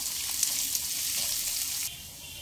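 Chopped onion and carrot stir-fry in a pan, a steady close hiss of sizzling that holds evenly for about two seconds, then drops to a quieter simmer near the end.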